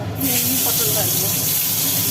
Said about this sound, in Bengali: আজকে প্লেন পটল ভাজা